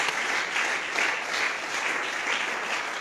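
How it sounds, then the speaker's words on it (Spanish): A church congregation applauds in a steady, even wash of many hands clapping, sustained at moderate loudness throughout with no voices over it. "Denle un fuerte aplauso al Señor."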